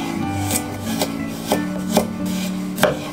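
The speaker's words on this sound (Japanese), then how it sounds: "なお今回は包丁で切っていますが" A kitchen knife slices carrot into thin diagonal pieces on a cutting board, giving about six crisp, separate chopping taps at an irregular rhythm, close and fairly quiet.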